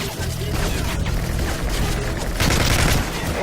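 Heavy gunfire and explosive blasts from airstrikes in Call of Duty: Modern Warfare 3 fill the whole stretch, with dense bursts and booms loud and continuous, swelling toward the end.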